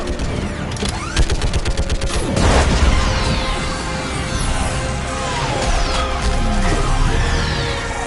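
Heavy gunfire in the video game Mass Effect, with rapid volleys, mechanical clanks and booming blasts layered in a loud, dense battle mix throughout.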